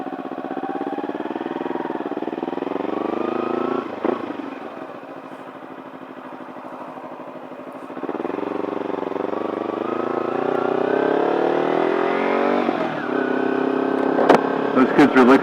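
A Kawasaki Ninja 300 motorcycle on the move, its engine droning steadily, dipping briefly, then climbing in pitch as it accelerates. The engine is loud and close, with a few sharp clicks near the end.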